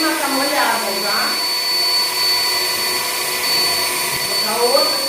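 A professional hair dryer blows a steady, loud stream of air over a wet kitten, its constant roar running the whole time while a person talks over it.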